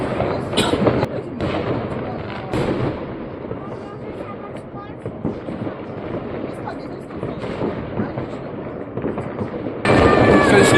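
Fireworks going off around midnight on New Year 2025, with repeated bangs and crackling bursts at a distance, scattered and irregular, a louder crackling volley near the end, and voices talking throughout.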